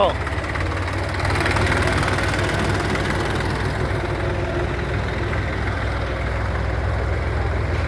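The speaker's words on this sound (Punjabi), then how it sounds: "ਪੁਰਾਣਾ ਟਰੈਕਟਰ ਆ 1970 ਮਾਡਲ ਦਾ" Old 1970 model Hindustan tractor engine idling with a steady, low, throbbing chug, close and continuous with no break.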